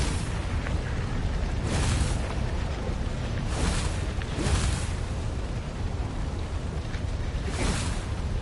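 Cannon traps in a temple in Stories: The Path of Destinies, firing repeatedly in several booming blasts spaced a second or two apart over a dense, continuous roar of game ambience.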